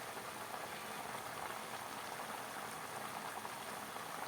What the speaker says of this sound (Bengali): মাংস ঢেলে দিলাম।